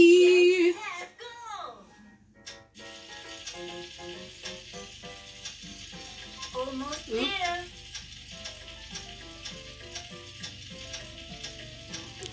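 Pan frying in the Cooking Mama video game, with steady game sizzle effects and jingles while someone talks over it.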